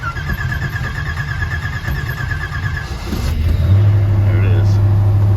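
A cold 1940 Ford engine cranking with a steady rhythmic churn, then catching and starting into a louder rumbling idle, close and loud, with a voice talking over it.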